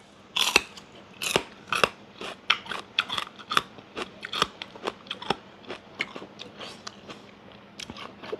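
Crisp crunchy bites and chews of a raw bitter vegetable, sharp close snaps repeated in an uneven rhythm through the whole stretch, fairly loud against a quiet background.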